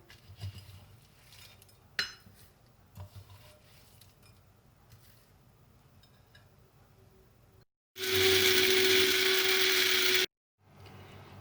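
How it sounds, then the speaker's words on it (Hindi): An electric kitchen grinder pulverizes biryani masala spices (cumin, fennel, dry ginger, dry garlic, bay leaves, nutmeg, black cardamom). Soft clinks and handling come first, then a loud, steady whirring roar runs for about two seconds, stops abruptly, and briefly restarts at the end. "मसाले को मशीन में डालकर अच्छी तरह पीसते हैं।"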